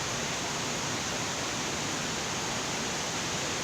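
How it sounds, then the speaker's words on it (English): Broadband rushing water from a large river beside an old railroad track near McCarthy, Alaska, a steady close roar holding evenly throughout with no voices. "We're right next to a river."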